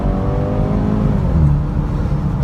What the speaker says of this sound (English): Sounds like a nice throaty engine, not anything crazy loud, nothing crazy powerful, right?